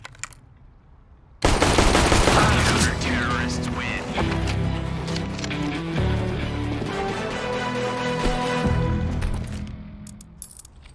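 Video game gunfire erupts as loud, dense automatic bursts with rapid shots and clinking metallic shell sounds, running nearly continuously for several seconds before fading, while a voice talks over it.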